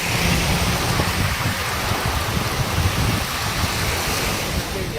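Heavy rain pours down in Manamadurai, Sivaganga district, as vehicles pass with headlights on in the storm's darkness. It makes a loud, dense, unbroken roar that fills the whole stretch evenly.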